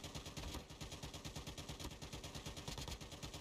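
Sustained automatic weapon fire in Call of Duty Mobile during a battle royale match, a dense continuous rattle of rapid shots with a pulsing rhythm throughout, no voices over it.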